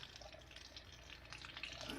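Hot water runs steadily from the tap of an RV's Truma AquaGo on-demand water system, a constant close hiss and splash without talk.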